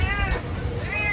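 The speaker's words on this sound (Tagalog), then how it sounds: "Magsalita na yung pusa natin." A cat meows a couple of times, brief and fairly close, over background murmur and faint talk.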